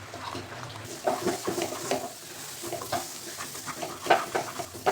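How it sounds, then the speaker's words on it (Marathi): Puran dough thickening in a pan over a medium flame as it is stirred, with wet, sticky scraping and squelching strokes in an uneven rhythm, close up with no talk. "ह्याला मीडियम फ्लेमवरती आपल्याला असं घट्ट होईपर्यंत परतून घ्यायचे"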